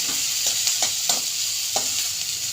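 Onion, garlic, ginger and pepper stir-fry in a pan for a country-style chicken sambar, with a steady close sizzle and several soft scraping stirs of the spatula at uneven intervals, with no voices.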